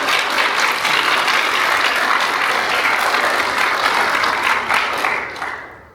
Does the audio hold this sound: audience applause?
yes